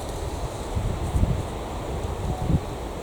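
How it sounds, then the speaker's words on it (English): Wind gusts through a kitchen garden, buffeting the microphone in low rushing surges with a steady airy hiss. The surges swell and fade unevenly, with no voices. "It's windy, but I've got to say, it's beautifully fresh."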